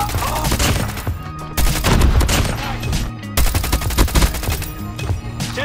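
Kilo 141 rifle fire in a Call of Duty match, with loud rapid automatic bursts in long strings that break off briefly between volleys, layered with other gunfire close by.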